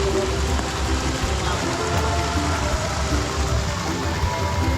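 Rain falling at a riverside resort, a steady, dense hiss of drops on surfaces that holds even and unbroken throughout, with a low rumble of flowing water underneath.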